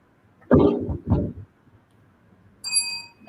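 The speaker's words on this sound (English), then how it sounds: "remember to ring the bell" A bell rings once with a bright, clear metallic ding near the end, following a couple of throat-clearing coughs in an otherwise quiet room during a stage event.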